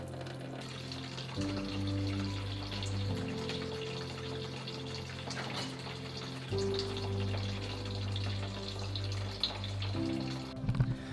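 Coolant drains from a Mitsubishi Evo 8/9 radiator in a steady, close trickle and splash, with a low hum switching on and off underneath and a few louder knocks near the end.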